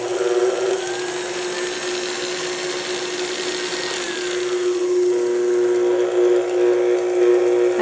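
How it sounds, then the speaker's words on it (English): Electric whisk beating orange and almond semolina cake batter, a steady high whirring drone that runs unbroken throughout at a loud, close level, with no voices. "Just going to give this a little whisk."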